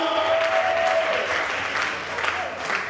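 Audience at a teachers' old school celebration forum in Benin City claps steadily, a full, even round of applause with a brief tonal sound near the start.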